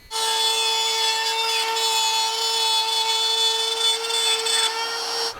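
Wood router making a shallow 1/16-inch climb cut along the border of a walnut demilune table top: a steady, loud high-pitched whine with a strong tonal hum, running continuously for about five seconds with no talk.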